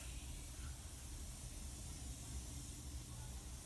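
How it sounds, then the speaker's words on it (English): A steady, continuous hiss of makeup setting spray running for several seconds, close and fairly loud, with no talking. "I'm going to go in with my Morphe setting spray"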